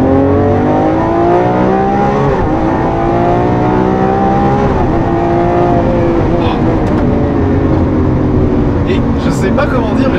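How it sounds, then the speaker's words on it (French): Lamborghini Aventador Ultimae LP780-4 with its naturally aspirated V12, a loud sustained engine drone whose pitch rises and falls as it revs, heard close from inside the car. "ce V12 Atmo qui est fabuleux"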